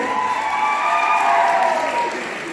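Audience applause for an award winner at a college week ceremony in Dhakuakhana: steady, dense clapping from a large crowd that swells slightly midway and fills the whole moment, with no talking over it.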